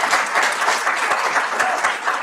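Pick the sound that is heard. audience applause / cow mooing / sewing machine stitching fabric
audience applause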